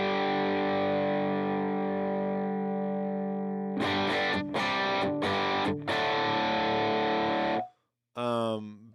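An electric guitar runs through a crunchy amp model on a Helix Stadium XL, starting with a long sustained chord, then moving into choppy, rhythmic distorted strums and ending on a short bright riff.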